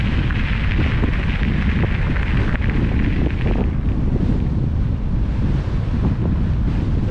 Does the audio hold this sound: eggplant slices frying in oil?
no